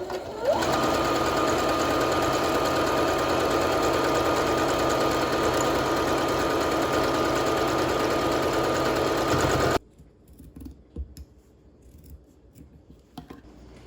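A sewing machine running a half-inch seam around a square pillow cover, a loud continuous whirring stitch for about ten seconds that stops abruptly, leaving faint handling noises.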